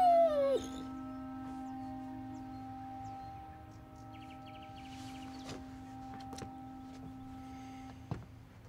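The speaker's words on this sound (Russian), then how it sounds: "Собака хорошая." A dog whimpers and whines in a high, wavering tone at the start, then quieter yips and faint cries over a steady low hum, with a few clicks and knocks in the background.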